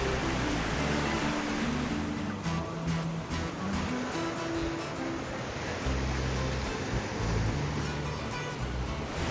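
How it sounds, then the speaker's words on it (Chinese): Sea waves wash along the rocky Cinque Terre coast in Italy, making a loud, dense, continuous roar of surf with no clear breaks, heard up close outdoors and without speech. "听着后面的海浪声，超级美"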